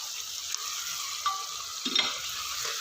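Chole gravy masala sizzles quietly in a pan while a spoon stirs it, a soft continuous fry with a few scraping clicks and small bursts of bubbling.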